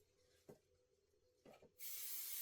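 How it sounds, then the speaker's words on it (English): A spray bottle is pumped onto a fabric quilt block, with a couple of soft clicks followed by a loud, steady hiss of mist up close. "Let me spray it."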